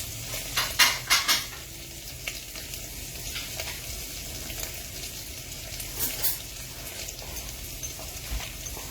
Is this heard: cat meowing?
no